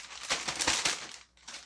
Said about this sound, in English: I'm going to put them in this gallon-sized zipper bag